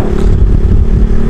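A Yamaha Jupiter Z1 motorcycle with an aftermarket Tsukigi exhaust whose glass wool packing has been replaced runs loud and close, a steady low rumbling drone with a rough, clattering edge.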